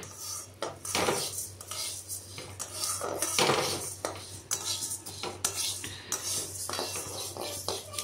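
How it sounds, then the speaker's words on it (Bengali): Urad dal being dry-fried in a kadai while a metal spoon stirs it, giving a steady stream of scraping, rattling and clinking for several seconds with no voices. "একটু ডালটা ভেজে নেব আর কি।"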